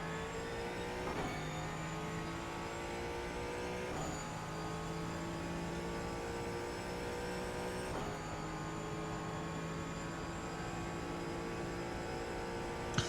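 Ford Mustang GT4 in the iRacing sim at the Miami circuit: a steady engine drone that dips at intervals as gears shift and pulls back up under acceleration, fairly quiet and continuous with no talk.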